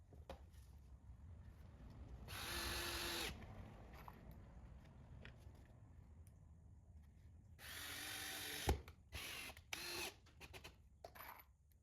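A drill driving a screw into a wooden board, two whirring bursts of a few seconds each separated by quiet handling clicks, close and moderately loud, with no talking.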